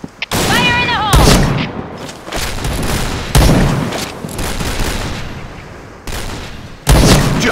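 Grenade blasts and rapid gunfire in Point Blank crash through a firefight, with loud bursts of shots in repeated volleys and sharp booms breaking in between.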